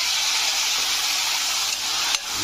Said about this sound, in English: Fry for some time.